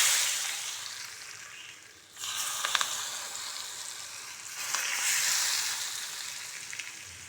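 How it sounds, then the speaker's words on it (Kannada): Hot oil sizzles loudly for instant mango pickle, a bright hiss that dips briefly and then surges again as ingredients go into the pan, close and alone. "ಇದು ಚೆನ್ನಾಗಿ ಬಿಸಿಯಾಗಿ ಹಾಕಿ, ಆಯಿಲ್ ಚೆನ್ನಾಗಿ ಬಿಸಿ ಹಾಕಿದ್ದು"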